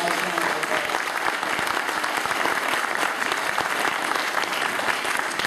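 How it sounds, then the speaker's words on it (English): A large audience claps steadily and loudly throughout, a dense, sustained round of applause with no pauses. "so let's give them a nice round of applause."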